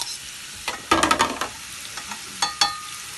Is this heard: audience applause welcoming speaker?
no